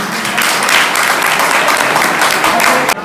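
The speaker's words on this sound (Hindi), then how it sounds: "तालियों से स्वागत करेंगे" A college welcome party crowd applauds to greet a guest, dense continuous clapping at close range for about three seconds before cutting off abruptly near the end.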